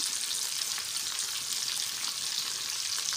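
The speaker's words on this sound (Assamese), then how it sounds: "পিঁয়াজখিনি এতিয়া ভাজি ল'ম।" Three onions fry in a pan, giving a steady, even sizzle that stays close and constant from start to finish with no voices.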